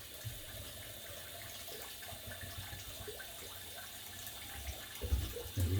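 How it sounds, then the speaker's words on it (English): Running tap water pouring steadily as a twist-open safety razor is rinsed beneath it, a soft continuous splash and hiss, fairly faint, with a few louder splatters near the end. "I just kind of open it up and rinse it under water"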